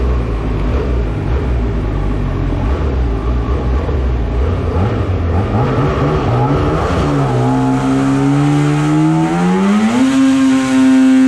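A BRP 800 E-TEC two-stroke engine on a dyno, fitted with a Bondi airbox, a Power Commander running 4% extra fuel and 1.5 degrees of ignition, roars loudly and climbs steadily in pitch through a sustained rev, close and without talk.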